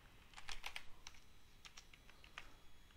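Rapid, light keystrokes on a computer keyboard while writing code, coming in uneven bursts of clicks at close range with a quiet room behind them and no talking.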